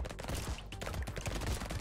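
An upgraded SMG in the video game Brotato fires a rapid, continuous stream of quiet, crackling shots, densely layered like a small fusillade.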